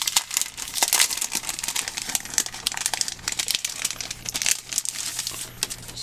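A peel-and-stick sheet is pulled away from its backing, unpacked from a BattleTech Beginner Box, giving a close, continuous crinkling and tearing rustle for several seconds with no talk.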